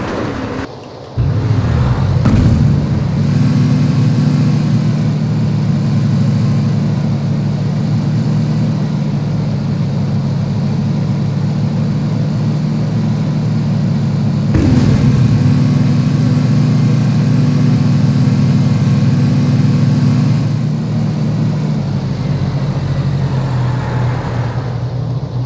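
The engine of a UAZ in PUBG drones loudly and steadily while driving on mountain roads, a low rumbling hum that barely changes pitch, with a brief bump or shift around midway.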